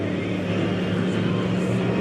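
A Chevrolet race car at Eagle River Speedway in Wisconsin roars steadily past, a loud, continuous engine drone filling the whole moment with no talk over it.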